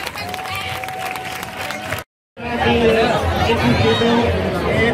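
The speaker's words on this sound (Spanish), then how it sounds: "Un aplaudiment, sisplau, per totes les persones valentes i valents" Crowd chatter and clapping at a charity cancer fun run in Catalonia fill the space, cut by a brief silent gap, then a dense babble of voices and applause resumes at steady loudness.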